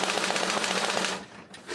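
A hand-cranked mechanical sound-effect device imitating an old machine gun gives a rapid, continuous rattling clatter close by, then slows and stops.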